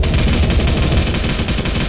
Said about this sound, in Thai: โอ้เสียงปืนแบบดังมากครับ